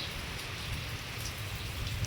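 Full rain falling in a village, a dense, even patter of drops on surfaces, close and steady the whole time with no voices.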